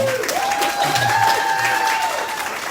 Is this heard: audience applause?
yes